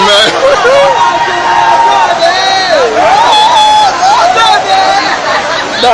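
Dense crowd at a mass street protest in Igweocha with Biafra flags, a loud continuous roar of voices, whoops and shouting close around, several raised voices rising above the babble throughout.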